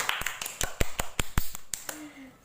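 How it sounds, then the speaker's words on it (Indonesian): Classroom applause for a student group, a handful of sharp, sparse claps in an uneven rhythm, close and fairly loud. "Tepuk tangan untuk kelompok 1."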